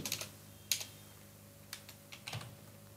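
A name being typed on a computer keyboard: a handful of sparse, light key clicks in irregular bursts, close and quiet against a faint steady hum.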